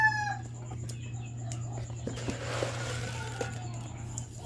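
Chickens kept as backyard poultry cluck and call intermittently at close range, with a rooster-like call at the start, over a steady low electrical hum and quiet background.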